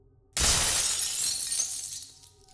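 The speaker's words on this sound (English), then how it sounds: "awoke from the middle of a nightmare to the sound of smashing glass." A glass window smashes in one sudden loud crash. Shards tinkle and scatter for about two seconds before fading.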